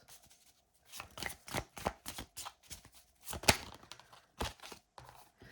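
Tarot cards are shuffled by hand in a series of quick, crisp riffles and flicks, close by and irregular, with short pauses between bursts and no voices.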